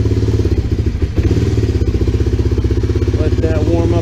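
A Honda Fourtrax 300 ATV engine idles close by in the cold, a steady, rapid thumping putter that stays even while warming up.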